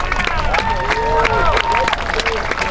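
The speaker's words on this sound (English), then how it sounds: "let's give a round of applause for all their dedicated work this entire week" A baseball championship crowd, at a beep baseball game, breaks into loud, continuous applause and clapping, with cheers and voices mixed through the noise.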